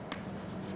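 A marker or chalk squeaks and scratches across a board in a single quick stroke during an aerodynamics lecture, faint and brief over a quiet room hum.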